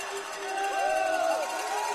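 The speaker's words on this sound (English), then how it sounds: "Hear the crowd." A basketball crowd at a 15U girls national game cheers and shouts, a lively mid-distance roar with high voices rising and falling over two seconds.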